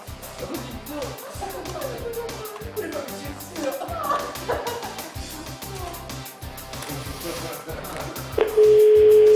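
A telephone ringing tone sounds during a French TV broadcast, rising out of background music and chatter near the end as a loud, steady tone.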